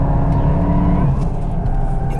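A sports car in track mode is driven flat out on a circuit, giving a loud, close, steady engine drone with a rumbling low end and no talk.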